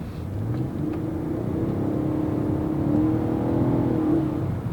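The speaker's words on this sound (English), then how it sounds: "That 2GR engine, that V6, it does sound pretty good." A 2024 Lexus TX 550h+ with its 2GR V6 hybrid engine accelerates in a steady, smooth rising drone that builds gradually and holds, heard alone without talk.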